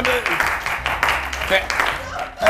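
Studio audience at a Times Square morning talk show claps and cheers, a steady dense patter of hands carrying on under a host's voice talking over it.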